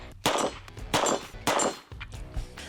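Three sharp Walther PP pistol shots in .32 ACP, evenly spaced about half a second apart, each a loud close crack with a short ringing decay, followed by a quieter fourth report.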